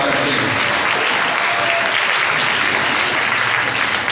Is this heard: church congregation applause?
yes